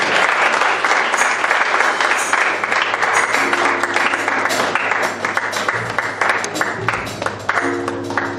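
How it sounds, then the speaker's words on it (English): A church congregation claps steadily through a Sunday celebration service, a loud, sustained wash of many hands with a low musical hum underneath. "Let's keep good clapping."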